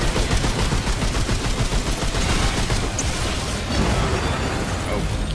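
Dense, continuous gunfire from guns in the video game Remnant 2, rapid overlapping shots and bursts filling the whole stretch at a loud, constant level.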